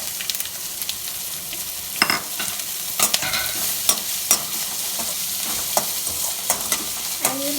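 Urad dal and beans fry in a pan over a low flame while being stirred, a steady close sizzle broken by irregular scraping knocks of the spoon against the pan.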